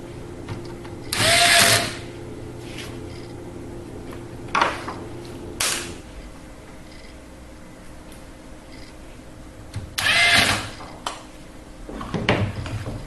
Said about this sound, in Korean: 나사를 조여주시고